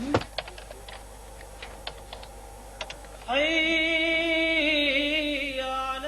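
Scattered, fairly faint clacks of keys as a broadcast programme schedule is typed at a television station, giving way midway to a steady tonal hum and whine that persists to the end.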